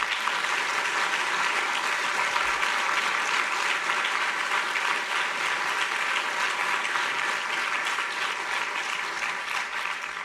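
An audience at a French diplomatic event gives Didier Lebret a fresh salvo of applause, a thick, continuous wash of clapping from a large room that stays loud and even for about ten seconds, tapering slightly at the close.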